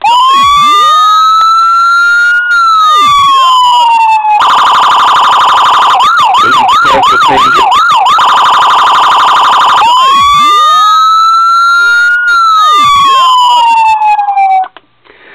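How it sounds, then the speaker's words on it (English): A toy police siren on a 1:18 diecast Ford Police Interceptor Utility model blares loudly and steadily, switching from a rising-falling wail to a rapid warbling yelp and back again, then cutting off. "The siren, again, controlled by this button here."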